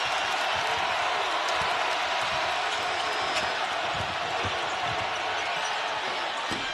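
A college basketball arena crowd at a BYU game roars in a steady, dense wall of cheering and noise, with faint squeaks and bounces underneath and no clear voice on top.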